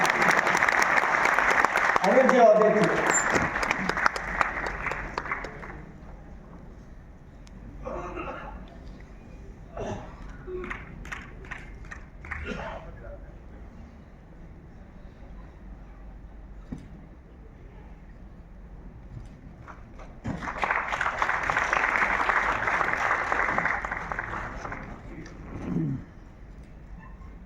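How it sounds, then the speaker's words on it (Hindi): Loud applause for volunteers at a ceremony in Jaipur, with a strong burst of clapping early on, a speaker talking in the quieter middle, then a second sustained wave of applause near the end. "इन सेवाभावी कार्यकर्ताओं के लिए जोरदार तालियां बजाकर इनका उत्साह"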